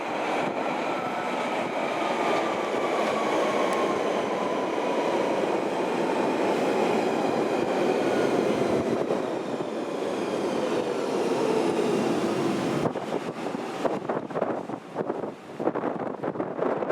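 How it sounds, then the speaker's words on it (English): London Underground Central Line train running toward the city, a steady loud rumble with a slowly falling whine, wind buffeting, and a shift to clattering, uneven noise near the end. "we got the next Central Line train for the city"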